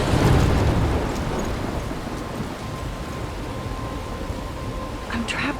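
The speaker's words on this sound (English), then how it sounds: "I'm trapped in a storm?" A thunderstorm with rain in the video game Life is Strange opens with a heavy rumble of thunder over steady hissing rainfall, which then continues alone at an even level.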